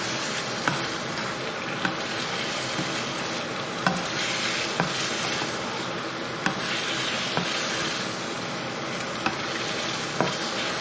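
Chicken is stirred into a runny rogan josh gravy in a pan, giving a steady close sizzle with soft scraping and regular light knocks of the spoon against the pan.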